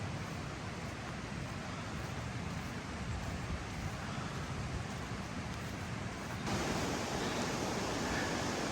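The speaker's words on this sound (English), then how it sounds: "Okay, this is the 10-mile river here." The flooded Ten Mile River in Connecticut rushes along the Appalachian Trail in a constant, broadband roar of fast water, steady and close throughout, swelling slightly louder near the end with no voices over it.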